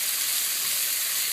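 Bacon strips frying in a pan with jalapeno seasoning give off a steady, dense crackling sizzle, close and even throughout with no voices.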